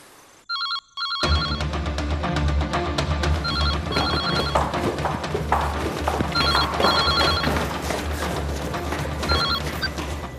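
A telephone rings in repeated bursts of electronic trilling, steady and loud, over a constant low hum and background music with no talk.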